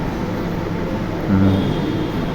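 A train runs from Khulna to Dhaka in the early morning, giving a steady, continuous rumble and low hum with no talk. A slightly louder surge passes midway.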